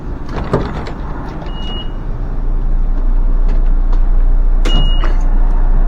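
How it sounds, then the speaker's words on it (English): A bus fare box gives a steady electronic beep twice over a constant low engine hum inside bus 4004, with occasional clicks and rattles. "That's the fare box that's making that sound."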